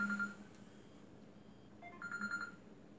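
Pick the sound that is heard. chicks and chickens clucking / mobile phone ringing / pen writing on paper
mobile phone ringing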